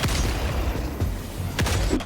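Heavy booming anti-material rifle shots ring out in Helldivers 2, with two loud reports standing out against a dense backdrop of rumbling battle noise and distant gunfire.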